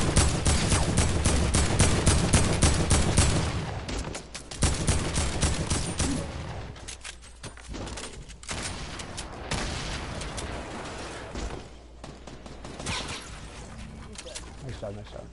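Rapid gunfire bursts from a Fortnite duos match, dense volleys and sharp cracks that stay loud for the first few seconds and then come as scattered shots and thuds under ongoing game noise.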